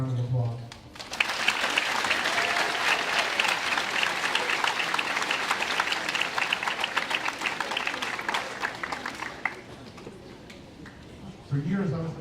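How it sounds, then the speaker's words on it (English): A live audience breaks into loud applause after a short bit of talk, with dense sustained clapping for several seconds before it fades and speech resumes at the very end. "She should get a round of applause"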